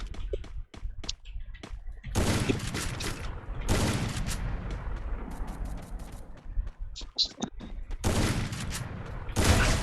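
Dense, loud bursts of video game gunfire, with rapid volleys and sustained automatic fire in several long stretches, heard close in a shooter match.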